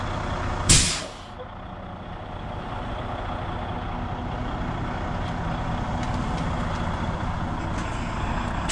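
A truck's air brakes release with one sharp, loud hiss, after which a heavy diesel idles steadily in a shop setting, with faint beeps in the background.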